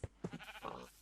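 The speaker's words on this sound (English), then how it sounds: "I don't know where these sheep have come from" Sheep in Minecraft bleat in a few short, close calls, the first two sharp and separate, followed by a longer wavering bleat, with no talking.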